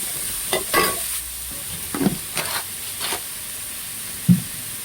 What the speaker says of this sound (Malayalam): ഇതെല്ലാം നന്നായിട്ടൊന്ന് ഇളക്കി കൊടുക്കാം.